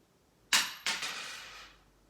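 A coin dropped onto a table in a classroom sound demonstration: a sharp metallic strike followed by two quick bounces and a ringing rattle that fades over about a second, alone and fairly close.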